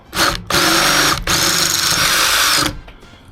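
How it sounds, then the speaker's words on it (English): A power drill whines loudly in three bursts, the motor revving high and pausing briefly between runs as it bores into metal roof rack brackets on a Ford Transit camper van. "so I've got to drill all of those out."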